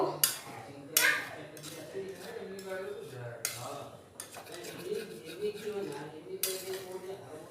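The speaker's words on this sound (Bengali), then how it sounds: "দিয়ে একটু ভালো করে নাড়াচাড়া করে মিশিয়ে নেব।" Chicken curry being stirred in a pot after water goes in, a spoon scraping and clinking against the metal in repeated strokes, with soft background voices underneath.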